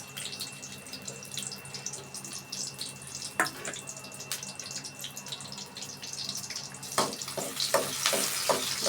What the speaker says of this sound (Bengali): পরিমাণ মতো তেল দিয়ে দিলাম আগে থেকে কেটে রাখা পেঁয়াজ কুচিগুলো দিয়ে দিলাম